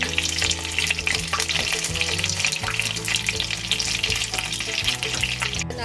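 Eggplant fries steadily in oil in a pan, a dense continuous sizzle with stirring and scraping sounds throughout and no talking.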